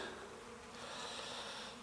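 Honey bees buzz around a water feeder filled with cold water at a farmstead apiary, making a steady, moderate hum that lasts throughout with no talking.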